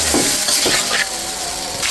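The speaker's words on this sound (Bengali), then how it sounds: "প্রথমে কচুটা দিয়ে একটু কষিয়ে নিচ্ছি।" Taro pieces sizzle and fry in a hot pan with koi fish, a steady loud crackle with a few stirring scrapes close up, and no voices.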